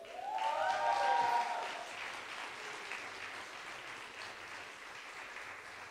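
A church congregation breaks into strong applause, many hands clapping in a broad, sustained roar that swells early and then settles to a steady wash, with a brief voice rising over the start.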